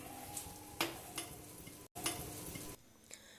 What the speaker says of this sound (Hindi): अब इसको मैं थोड़ा सा पकाऊंगी अदरक लहसुन को